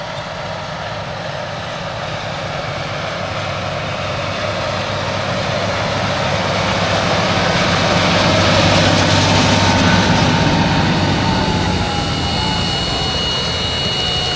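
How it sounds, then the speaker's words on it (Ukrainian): A tractor drives across a field during corn sowing, its engine droning steadily and swelling louder toward the middle before easing slightly, close and continuous with no talk. "бачите, як трактор ходить"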